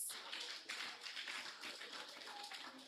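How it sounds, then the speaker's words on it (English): Dense, sustained clapping from a crowd at a primary school graduation ceremony, steady and fairly loud for about three seconds with no voices over it. "Give them a round of applause."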